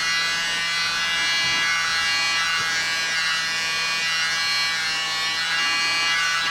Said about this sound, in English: he's a lot more aggressive with that mini blower, where I take the short puffs